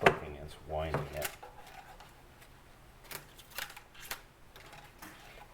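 An Echo string trimmer head ticks with sharp, irregular plastic clicks as its top is rotated to wind the line, close and isolated, following a few brief voiced sounds at the start.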